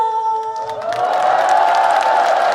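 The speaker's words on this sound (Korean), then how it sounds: "자, 즐거우신 분들만 소리 질러!" A concert audience at a 2019 Parents' Day filial-piety concert breaks into loud, sustained cheering and shouting that swells after a held musical tone and stays dense to the end.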